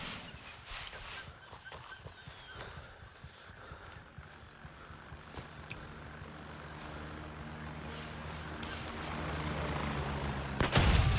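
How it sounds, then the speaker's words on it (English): Helicopter engine and rotor drone in the video game Mithras, a sustained low rumble that swells gradually louder as it passes close, mixed with scattered gunfire cracks and a sharp burst at the end. "All right, where did that chopper just go?"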